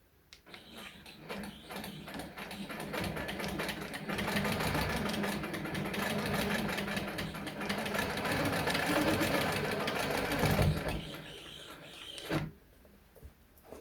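A quilting sewing machine runs steadily for about twelve seconds with a mechanical whir, starting softly and building to a fairly loud, constant drone, then stopping abruptly near the end.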